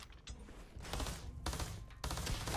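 Rapid bursts of Kraken SMG gunfire in Starfield, three rattling volleys of close, fast automatic shots separated by brief gaps.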